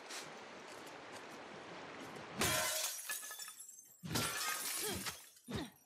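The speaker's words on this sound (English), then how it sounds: "you'd be there all day smashing windows" Window glass smashes and shatters in the video game The Last of Us Part 2, with several sharp, bright crashes and tinkling shards. A softer background wash comes before the first crash.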